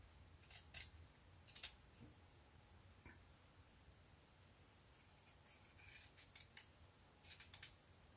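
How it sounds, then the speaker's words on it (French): Small scissors snip fabric while trimming the seam allowance around a sewn blouse neckline, quiet crisp cuts in small clusters with pauses between them. "je viens aussi dégarnir la marge de couture sur tout le tour de l'encolure, en recoupant ma marge de couture à 2-3 mm de ma piqûre"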